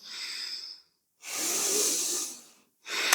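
Slow, deep yoga breaths during a Hatha yoga pose: two long airy exhales or inhales separated by silent pauses, close to the microphone and breathy, with a third breath starting at the end.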